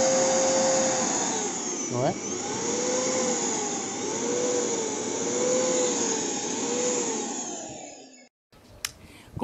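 A vacuum cleaner runs with a loud, steady roaring whine that wavers slightly, a voice speaks briefly over it, and the motor then cuts off, leaving a few soft knocks.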